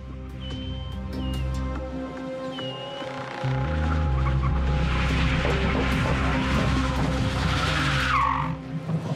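Cars drifting in a petrol station car park on the edge of the A4 motorway near Krakow: loud, continuous tire skidding and squeal over revving engines, growing louder midway and staying close throughout, with no talk.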